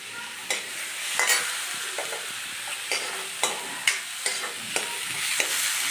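Onion, tomato, paneer and capsicum sauté in a pan, with a constant sizzle broken by repeated spatula scrapes and taps against the metal at a loose, uneven rhythm, close and moderately loud.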